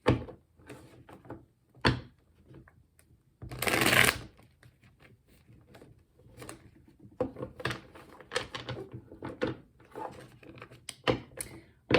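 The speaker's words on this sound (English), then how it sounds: "I just split the deck to shuffle" A deck of tarot cards is split and shuffled with bursts of riffling and soft slapping at close range, including one dense riffle early on, then scattered quieter card handling.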